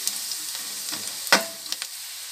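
Onion pieces fry in a pan for a fish stew, a faint soft sizzle broken by a few sharp crackles and stirring clicks.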